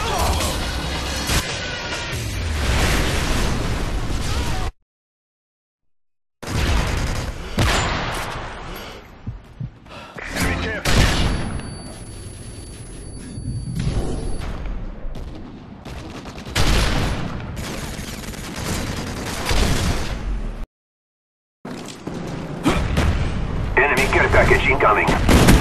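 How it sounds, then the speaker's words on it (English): Heavy explosions and rapid gunfire from a video game firefight after a predator missile strike, dense bursts crashing loudly over a continuous battle din, with two brief dropouts of silence; voices talk over the action. "Friendly predator missile inbound."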